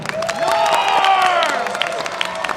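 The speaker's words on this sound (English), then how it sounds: "So please give another big round of applause to Norm." A crowd at a cosplay contest at a convention cheers and whoops for a stage manager, rising voices and shouts riding over a steady wash of clapping, loud and close.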